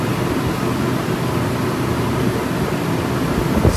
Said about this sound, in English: It's mostly fan noise that you're hearing inside